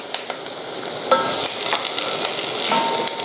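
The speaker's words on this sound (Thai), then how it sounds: "ทีนี้ผมจะเริ่มลงเบลีฟลงไปแล้วเอาไปผัดด้วยกันเลย" Bay leaves and a whole bunch of thyme stir-fry in a pan for gravy sauce, a loud, steady close sizzle broken by a few light clicks and scrapes of stirring.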